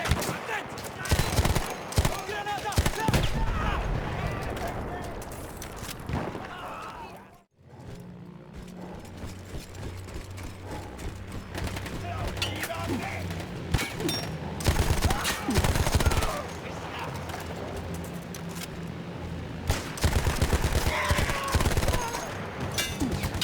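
Battlefield 1 gunfire around a mounted gun manned by Austro-Hungarian troops: sustained, loud machine-gun bursts and scattered shots, a brief pause partway through, with a voice speaking at times over the battle.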